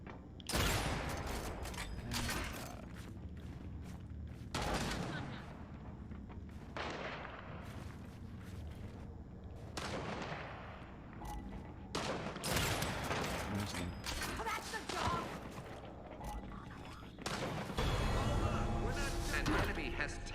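Gunfire in the shooter game Gears: repeated loud bursts and mechanical clatter come in waves, near and dense, with short lulls between volleys.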